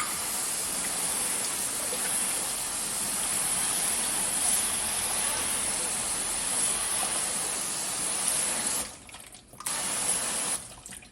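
Water sprays steadily from a hose onto a freshly washed car being rinsed off, a continuous broadband hiss that cuts out briefly near the end and then resumes.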